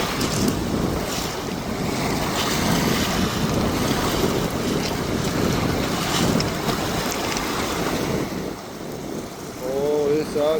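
Breeze at the Chorokhi river mouth by the sea, blowing as a continuous rushing wind noise buffeting the microphone, with waves underneath and a voice briefly heard near the end.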